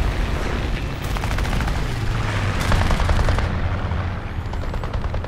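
Aircraft machine guns rattle in War Thunder air combat, a continuous dense burst of rapid gunfire over a steady roaring engine drone.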